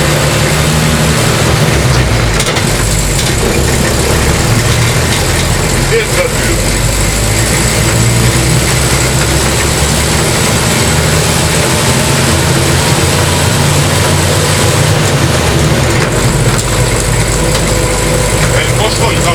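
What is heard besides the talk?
truck engine running while driving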